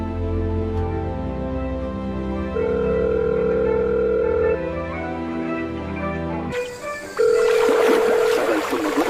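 Telephone ringback on an outgoing call: two long, steady electronic ring tones separated by a pause, heard over soft background music with no speech.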